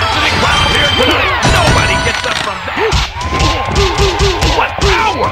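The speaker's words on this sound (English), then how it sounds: "A capacity crowd here tonight!" Arcade wrestling game WWF Wrestlemania with a loud, continuous crowd roar of cheering and whooping, dense and steady throughout, with synthesized voices and game effects layered on top.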